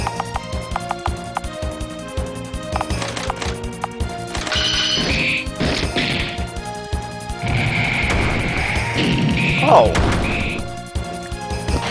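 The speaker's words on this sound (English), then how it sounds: "The top of the bell tower, dragged into battle, is smashed and its bell makes an upsetting rattle as it tumbles down" The smashed top of a bell tower crashes down in the Ruina: Fairy Tale of the Forgotten Ruins game, its bell clattering and rattling as it tumbles, heard over steady game music. A voice briefly exclaims.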